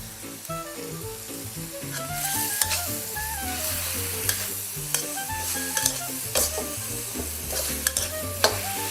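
Holy basil leaves tossed into a hot pan over high heat and stir-fried in sauce, giving a steady close sizzle with scraping stirs and occasional sharp clicks, under continuous background music.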